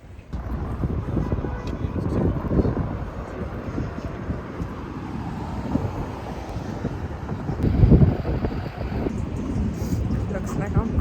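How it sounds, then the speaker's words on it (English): Strong wind buffets the microphone outdoors in Boston, a loud, continuous low rumble with gusts rising and falling and a stronger surge partway through. "the wind is really strong"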